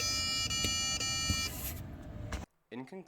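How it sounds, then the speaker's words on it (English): A toy dream house security alarm, set off by a red button, sounds a loud steady electronic tone with a stack of high harmonics and a few short beeps, then cuts out abruptly before a voice begins talking. "We could also use the red button to instantly set off this alarm as well."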